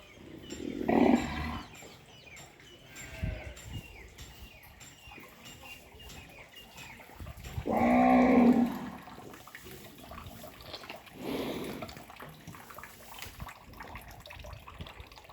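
Three cows moo low inside a cowshed, spaced a few seconds apart, with quiet barn noise and faint trickling between them.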